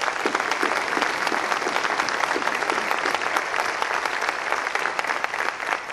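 A city audience at a State of the City address applauds teachers with loud, dense, sustained clapping from many hands, unbroken for the whole stretch.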